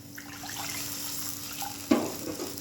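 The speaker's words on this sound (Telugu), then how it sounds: "అదే కప్పుతో మూడు కప్పుల వాటర్ పోసుకుందాం" Water pouring steadily into a cooking pot for tomato bath with a soft running splash, a brief louder clunk near the end, close and fairly quiet.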